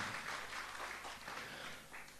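A Sunday church congregation applauds as a soft, diffuse wash of many hands clapping, distant and quiet, sustained evenly throughout without any talking.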